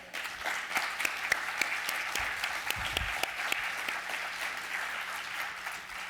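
Audience applause for school staff at an outdoor high school dedication ceremony, a steady wash of many hands clapping with sharp individual claps standing out, moderately distant and sustained throughout.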